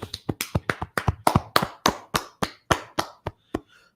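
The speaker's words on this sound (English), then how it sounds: "Most High in Christ, clap it up." Class group clapping in a slow, regular rhythm, about sixteen sharp, close claps spaced evenly and getting slightly softer, ending with a faint trailing sound.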